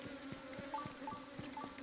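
Bees buzzing in Zelda: Tears of the Kingdom, a steady droning hum with pulsing wingbeat flutters repeating about every third of a second, close and unbroken, no voices.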